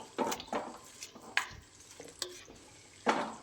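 Dried shrimp are stirred into a Kerala-style tomato curry, a spoon scraping and knocking the pot in several quick strokes over a faint simmer, nearby and moderately quiet, no voices.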